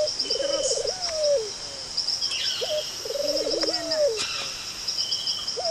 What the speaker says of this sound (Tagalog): yung mga huni po ng mga ibon po, yung mga awit ng mga ibon